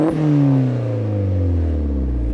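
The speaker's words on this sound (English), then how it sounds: "So let's do a quick rev with the air filter." A Vauxhall Astra VXR with an aftermarket air filter, heard from behind on a cold night, gives one loud, close rev, its exhaust roar sliding down in pitch as it settles back.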